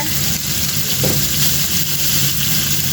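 Salmon pieces in a creamy carrot pasta sauce sizzle steadily in a pan, a continuous close frying hiss with no talking.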